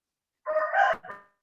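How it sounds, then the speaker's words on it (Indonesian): A single rooster crow, brief and fairly loud, rises and falls out of silence, heard alone over a thin, compressed line. "Kok sudah ada suara ayam berkokok?"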